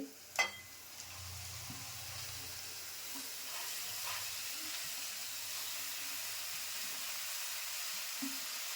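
Fenugreek greens dropped into a pan of softened frying onions bring a steady, quiet sizzle and hiss, with a brief clatter at the start and occasional soft stirring knocks.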